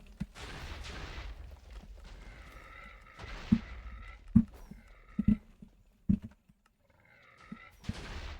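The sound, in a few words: gunshots in a party video game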